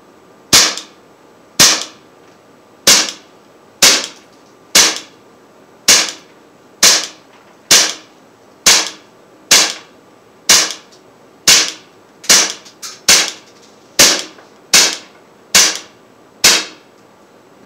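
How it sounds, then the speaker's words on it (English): An Umarex Beretta M9A3 .177 caliber air pistol fires a full 18-round magazine, giving sharp, evenly spaced cracks about one per second, with one quick double near the end, alone and close. "so this is a fresh mag, and I'm going to shoot from this distance"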